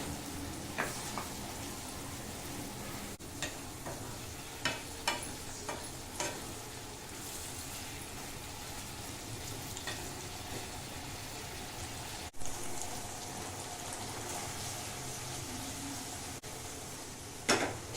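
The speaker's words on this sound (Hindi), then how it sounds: "चिकन ऐड कर ले रहे हैं जो फ्राई करके रखे हैं। कुटी हुई काली मिर्च, सबको अच्छे से मिक्स कर लेते हैं।" Fried chicken tossed with crushed black pepper in a pan for dry chilli chicken, with a continuous soft sizzle, a few sharp clinks and scrapes of a spoon stirring now and then, moderately quiet and without voices.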